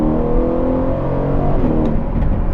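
An Aston Martin Vantage sports car engine runs with a deep, steady roar, the pitch shifting slightly as it revs, loud and continuous throughout.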